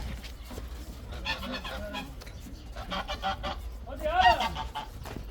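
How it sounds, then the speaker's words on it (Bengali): Goose honks ring out over a busy village farmyard background in Egypt, with a louder, closer burst of honking near the end. "এটা রাজা হাঁস"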